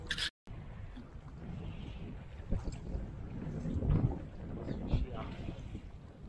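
Wind blowing over open water while fishing from a boat near a large industrial structure, a steady rumbling buffet against the microphone with gusts swelling midway, and someone talking underneath.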